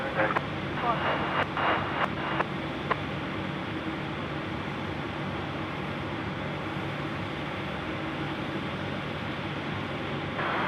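An Airbus A380 departs Sydney Airport at night, a broad steady jet roar heard from a distance, with a few sharp clicks early on and voices talking under it.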